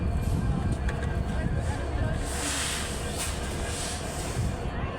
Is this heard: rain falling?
no